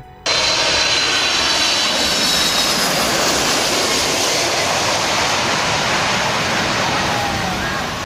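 An airplane landing at Paro airport in the Himalayan mountains of Bhutan roars in suddenly and loudly close by, a broad sustained engine and jet wash rush that slowly eases.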